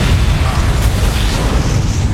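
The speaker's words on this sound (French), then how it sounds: "On vient d'avoir une explosion sur la scène de crime." A deep, rumbling explosion at a crime scene in the horror film Saw 3D, a sustained low boom that fills the whole moment loudly with no voices over it.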